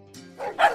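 A dog gives a single short bark, slightly whiny at the start and rising to a clear, close, moderately loud yelp at the end.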